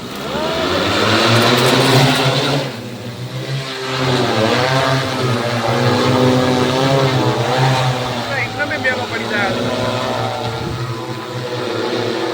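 An agricultural spraying drone flies over a mustard field with a loud, steady propeller whine that rises and dips in pitch, close to the listener, while people chatter over it throughout.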